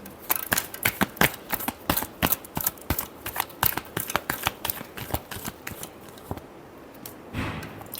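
Tarot cards are shuffled in a rapid string of crisp riffling flicks. They run steadily for several seconds, then thin out and end with a softer sliding rustle.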